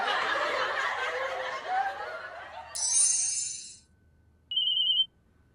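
Laughter fills the first few seconds, then a phone ringtone sounds as a bright electronic tone, stops, and gives one short second burst after a brief pause.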